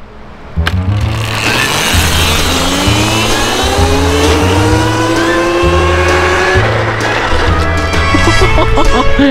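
Electric KTM 50 SX-E5 motocross bike from 2022 launching hard and accelerating, its motor whine climbing steadily in pitch over several seconds, loud and close, with some voices underneath.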